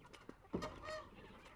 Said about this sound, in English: Those chickens are making a lot of noise.